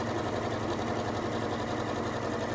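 A Janome Skyline 6 sewing machine stitches a seam and then runs a back stitch, its steady mechanical whir continuous and fairly close, with no voices over it.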